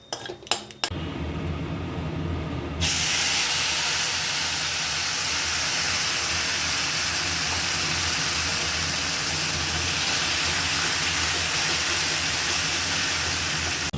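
Cashew paste poured into hot oil already seasoned with bay leaf, dried red chilli, cinnamon and cardamom for a pointed gourd and cashew curry. A few utensil clinks come first, then a sudden, loud, steady sizzle erupts and continues unbroken to the end.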